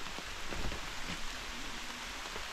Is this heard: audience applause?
no